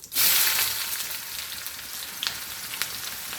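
Onions hit hot oil in a home kitchen pan with a sudden loud sizzle that settles into steady frying, a few sharp crackles and clinks of stirring poking through.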